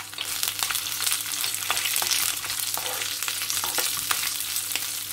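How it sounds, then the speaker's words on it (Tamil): Urad dal, curry leaves and chillies frying in hot oil for a carrot sundal tempering, a steady close sizzle with crackling pops throughout and no talking. "உளுந்து பொரிய துவங்கிட்டது. நான் இப்போ கறிவேப்பிலையை சேர்க்குறேன்."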